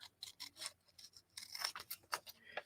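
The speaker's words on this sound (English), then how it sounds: "these are not the right scissors for doing this" Scissors snip and rub through material in a run of quick, crisp cuts, close and moderately quiet, with short pauses between strokes.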